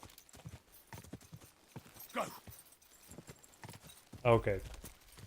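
Horse hooves clip-clop in the video game Kingdom Come: Deliverance 2, a steady run of soft hoofbeats with a louder cluster near the end. Players talk over them.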